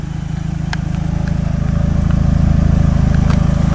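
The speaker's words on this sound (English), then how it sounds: "Thought I'd leave the car running for this exterior clip just so you could hear the exhaust when the car's warm" A 2015 Opel Astra OPC idles outside with its twin exhaust, giving a steady, deep, rhythmic burble that grows slightly louder as it continues, heard close with no talking.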